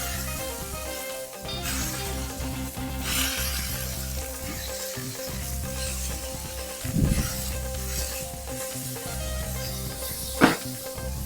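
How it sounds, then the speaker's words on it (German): Food sizzles and steams crisply in a frying pan, a continuous close hiss with occasional bursts and a sharp spike near the end, layered over background music. "Muss richtig knusprig"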